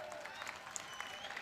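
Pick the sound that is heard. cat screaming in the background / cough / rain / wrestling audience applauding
wrestling audience applauding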